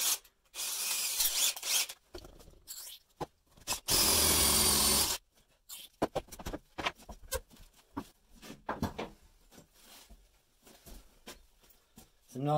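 A power drill with a Milwaukee Red Hex bit whirs in several bursts, grinding into fiberglass for a wind turbine blade hub, with scraping and handling noises between runs and no voices.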